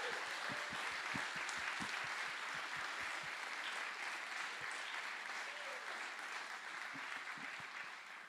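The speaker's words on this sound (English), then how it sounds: "give a round of applause for the Index project team who helped put this together as well" Applause from an award ceremony audience fills the room steadily for over eight seconds, a dense wash of clapping with a few sharper nearby claps early and late, slowly tapering.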